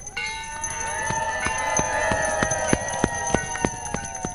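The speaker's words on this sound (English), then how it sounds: "Ringing the bell this morning" The opening bell of a stock exchange rings in a rapid, even series of bright metallic strikes whose tone lingers, heard close and clear over a soft background of crowd murmur.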